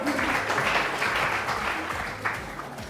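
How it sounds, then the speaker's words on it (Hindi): Studio audience at a morning TV show claps for guests from Bangladesh, a full burst of many hands sustained for a few seconds and easing slightly toward the end. "हमारे पास बांग्लादेश से भी लोग आए, इनके लिए तालियां बजाओ"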